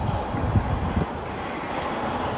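Steady, rushing wind buffeting the microphone, a continuous low roar without speech.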